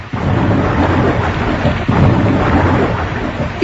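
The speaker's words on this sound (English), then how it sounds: "it started to rain, and lighten, and thunder in a very dreadful manner" Cartoon storm effect of heavy rain pouring steadily with rumbling thunder, loud and continuous throughout with a sharper thunder crack near the middle.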